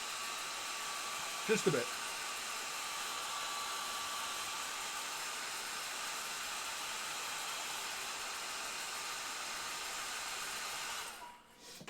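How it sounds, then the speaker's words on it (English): A hair dryer blows steadily and close to speed-dry paint on a miniature, a constant broadband whoosh lasting about eleven seconds before switching off, with a brief spoken remark near the start. "All right, I'm going to use my hairdryer."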